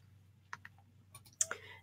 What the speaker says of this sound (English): I'm going to click on copy